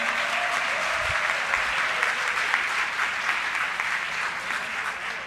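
Sustained, swelling applause from a conference audience of gastroenterologists in the Dominican Republic, a thick even roar of many clapping hands lasting over five seconds and easing slightly at the close.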